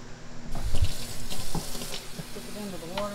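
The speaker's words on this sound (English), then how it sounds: "Put it under the water, wash it out real good." Running tap water splashes into a sink as a freshly butchered pastured turkey is rinsed out on a farm, an uneven gushing and spattering close by.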